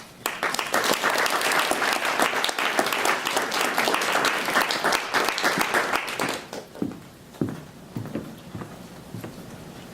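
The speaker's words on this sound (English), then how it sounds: "I hope we can all give her a round of applause" Lecture audience applauding for an introduced distinguished alumni speaker, a dense sustained patter of many hands that thins into scattered claps and fades after about six seconds.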